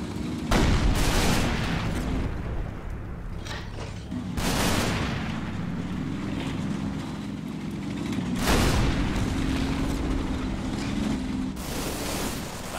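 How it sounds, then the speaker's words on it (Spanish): Gunfire and mortar blasts in the Italian-campaign war game Combat Mission Battle for Italy: sharp booming bursts at irregular intervals over a continuous rumbling battle din, with no talk. "Y aquí siguen habiendo disparos."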